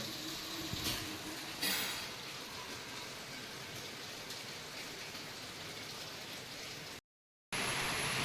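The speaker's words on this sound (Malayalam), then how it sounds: "നല്ല മഴയും പെയ്യുന്നുണ്ട്." Steady, even hiss of rain falling on surfaces, broken by a brief moment of silence near the end.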